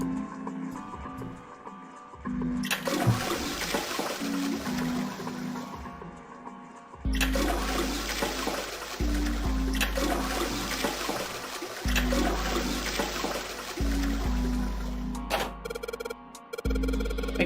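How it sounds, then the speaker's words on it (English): A toilet flushes repeatedly in the video game Zero Escape: 999, each flush a loud rushing gurgle of water with a low droning hum, separated by brief mechanical clicks, alone without talk. "let's go flush the other one 4 times"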